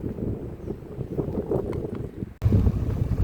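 Outdoors at a historical park in Malico, Pangasinan, cool wind buffets the microphone with a steady low rumble that gusts harder toward the end.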